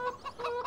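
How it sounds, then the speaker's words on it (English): Chickens on a farm in the video game Farming Simulator 17, Somewhere In Thuringia map, clucking in a quick run of overlapping calls, fairly close and steady, with no talking. "So this is where your chickens are."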